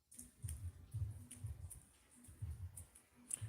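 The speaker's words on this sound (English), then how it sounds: "And it's raining again." Rain falling on a wet Christmas day in Spain, a soft patter of irregular drips and taps close by, steady for a few seconds.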